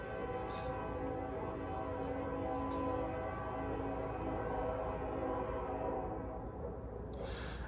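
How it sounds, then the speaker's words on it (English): A train rumbles past steadily with a low, continuous roar, and short high horn or bell blasts sound near the start, middle and end. "there's a train going by"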